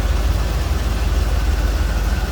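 The warmed-up engine of a 1982 Chevrolet Corvette Collectors Edition settles at low idle, a steady, loud, low rumble that holds an even pulse throughout with no voices over it.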